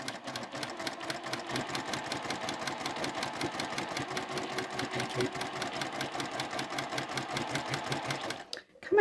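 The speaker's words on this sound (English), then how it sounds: "I'm starting right on the very edge and just sewing along, removing the pins as I need to." A sewing machine stitches quilt block pieces along the very edge, its needle chattering in a fast, even rhythm that runs steadily and close before stopping abruptly near the end.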